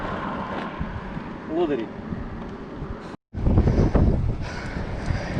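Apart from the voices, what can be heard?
strong wind while riding mountain bike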